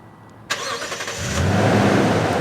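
A click from a remote starter, then a pickup truck engine cranks and catches, settling into a steady, fairly loud idle nearby.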